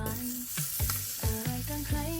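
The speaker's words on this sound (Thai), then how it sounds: "มาตั้งกระทะใส่เนยลงไปครับ" Butter sizzling in a frying pan while being stirred, with a steady hiss and repeated scraping strokes of a utensil across the pan, close and fairly quiet.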